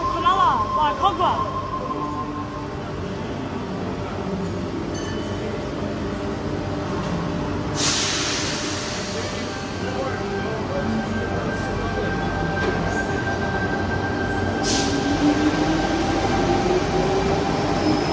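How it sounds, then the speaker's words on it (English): Train at Bondi Junction station platform departing, a steady low rumble and hum with a brief sharp hiss burst midway and another near the end, a rising whine toward the close, faint voices in the background. "T52 and T37 now departing. Platform number 1."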